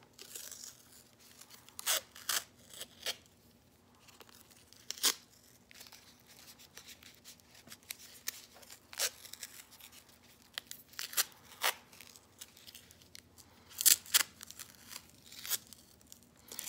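Masking tape being pulled and wrapped around crinkled foil to shape a craft carrot, giving quiet, close, scattered crinkles, rubs and small tearing sounds spread unevenly over the stretch, with no talk.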